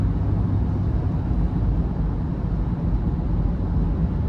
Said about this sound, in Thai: ตรงนี้คือเสียงลมล้วนๆเข้ามาจากด้านบนอ่ะ